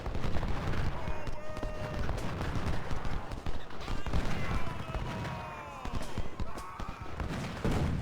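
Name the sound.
Civil War artillery guns firing in video game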